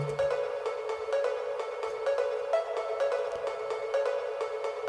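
A bright synth pluck repeats in quick rhythmic notes over a sustained electronic backdrop, part of a full progressive house mix with no voices.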